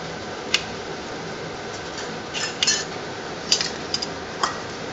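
A spoon stirs chakra pongal mixed with ghee, giving a few light metallic clinks and taps against the vessel over a quiet background hiss.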